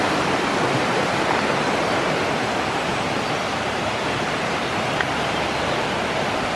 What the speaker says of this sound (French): il y a plu tout à l'heure, il n'y a pas si longtemps que ça, et ben c'est un vrai torrent